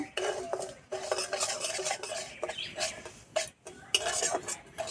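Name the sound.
semolina being stirred and fried in pan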